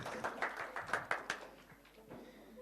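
Scattered audience clapping at a school student conference on environmental protection, a few sharp claps standing out over a brief ragged patter that fades quickly, with faint voices in the background.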